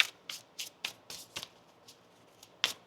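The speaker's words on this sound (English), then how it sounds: "One more shuffle." Tarot cards being shuffled by hand, a quick run of crisp riffling bursts, close and fairly quiet, with no talking.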